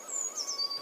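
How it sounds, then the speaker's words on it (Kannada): A single bird by a lake gives a short, clear, whistled call close by, one brief rising-and-falling note heard on its own. "ಶಾಂತವಾದ ಹಕ್ಕಿಗಳ ಶಬ್ದ"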